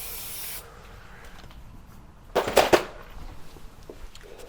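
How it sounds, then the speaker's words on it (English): Degreaser sprays onto a Nissan Micra front brake disc with a short hiss at the start, then a few quick bursts of spraying and rubbing in quick succession, close and otherwise quiet. "before we do that, we need to just degrease the disc"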